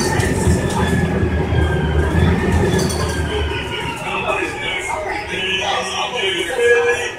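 A 1998 Gillig Phantom bus engine drones from on board, a continuous rumble with shifting whine and rattling wheel and road noise, while a voice talks in the background.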